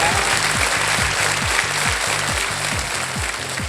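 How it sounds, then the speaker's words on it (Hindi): Steady, loud audience applause fills a TV quiz show studio, continuous dense clapping that carries from start to finish under a rhythmic low musical pulse. "ताली बज गई आपके लिए।"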